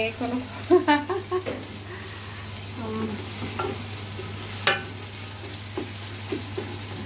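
A spoon scrapes and stirs khichuri in a pot with irregular knocks and scraping strokes, a series of sharp clunks early on followed by softer stirring over a steady low hum, close by, with no talk.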